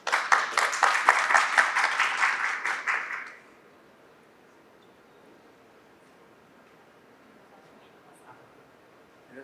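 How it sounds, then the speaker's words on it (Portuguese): An audience at a regulatory session of the Hospitalar 2025 healthcare trade fair claps briskly for about three seconds. The clapping is close and lively, then drops away to a quiet room hum. "Uma salva de palmas, pessoal."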